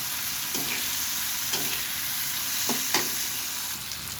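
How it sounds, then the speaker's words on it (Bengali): Onions fry in oil in a pan for a bottle gourd dish, a continuous close sizzle broken by four or five quick scraping stirs, with no voices. "পেঁয়াজটা অনেকটা ভাজা হয়ে গেছে"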